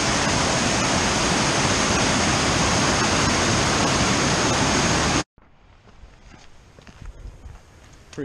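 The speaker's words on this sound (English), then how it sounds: "It sounds like there's a cool creek crossing up here, though." Steady loud rushing water from Cascade Creek near Jenny Lake fills the first five seconds, then cuts to a much quieter outdoor background with faint rustling.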